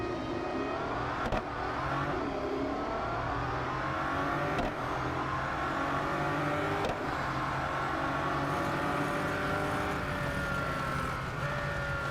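A Bugatti Centodieci roars around the Nürburgring Grand Prix circuit in the racing game Real Racing 3, its engine climbing in pitch, with brief breaks at the gear shifts between the revving rises.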